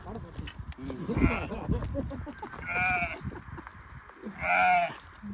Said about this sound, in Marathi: मित्रांनो बघू शकता तुम्ही आता मेंढ्या चाललेत तर रानामध्ये.